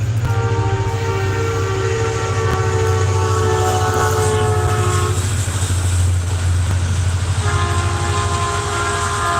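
A train arrives and rolls past at a village, its horn blaring in long sustained blasts over a heavy rumbling, clattering drive-by of wagons, loud and close.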